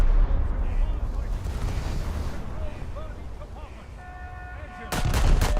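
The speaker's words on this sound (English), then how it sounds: "And there goes his ammo, but not from me." In War Thunder naval combat, an enemy ship's ammunition detonates late in the clip with a sudden, loud, broadband blast after a stretch of steady rumbling battle noise and distant gunfire.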